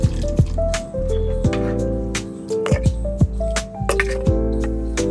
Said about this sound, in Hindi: अब गस्सी के लिए जो हमने ये पोई के साग वाला पानी रखा है उसे भी डाल देंगे इसी मिक्सचर में।